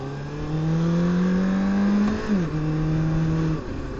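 A car engine revs steadily as the car pulls out into traffic, heard from a motorcycle at an intersection; a sustained hum rises slightly, dips briefly, then holds until it fades near the end.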